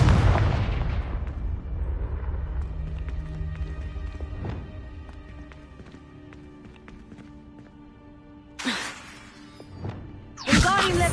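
In the Hogwarts Legacy video game, a Confringo fire spell explodes with a loud burst and a long rumbling decay, followed by quieter game ambience and sharp bursts of further spell effects near the end.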